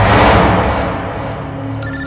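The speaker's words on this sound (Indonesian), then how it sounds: "Siapa yang meneleponku malam-malam seperti ini?" A mobile phone rings with an incoming call late at night, a steady electronic ringtone with layered tones sounding fairly loud and close, with a brief brighter chime entering near the end.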